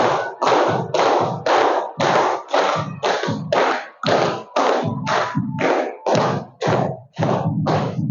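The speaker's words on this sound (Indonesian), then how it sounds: "Boleh tepuk tangan." Students in a classroom clap in unison, about twice a second, loud and close. The claps form rhythmic bursts with brief irregular gaps, like a warm-up clapping game.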